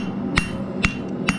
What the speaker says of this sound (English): put it up on the edge and hammer it, then roll it on the other edge and hammer it